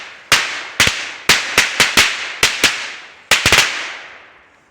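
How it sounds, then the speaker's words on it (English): A string of sharp firecracker bangs goes off in quick, uneven succession in the woods, each loud crack followed by a short echoing decay, with a rapid cluster near the end. "So we're going to try some firecrackers."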